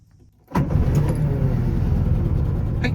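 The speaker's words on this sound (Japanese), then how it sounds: "早速エンジンかけてみましょう。" A Subaru 360 with a Young S engine is started with the key: after a quiet moment the small engine catches at once and settles into a steady, buzzing idle, close and loud.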